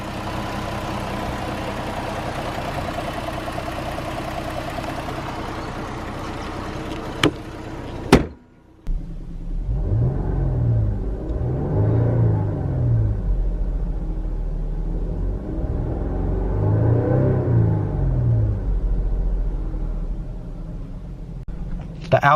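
A 3.2 liter Pentastar V6 with variable valve timing in a Jeep Cherokee idles with a steady low rumble throughout, heard close up. A door-like thump comes about midway, and someone speaks over the engine.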